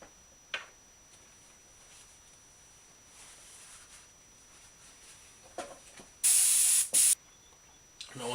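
A short burst of airbrush paint spray hisses loudly for under a second, broken by a brief gap, amid quiet ticking and light handling noises while painting a crankbait fishing lure.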